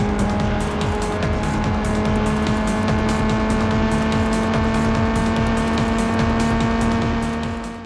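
Real Racing 2 on an iPad: a loud, continuous race car engine drone with a steady pitch holds throughout, overlaid by tire squeal and driving noise.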